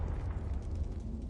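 The Bombarda spell goes off in Hogwarts Legacy as a short, heavy, rumbling blast that fills the whole moment at moderate loudness, with no talk.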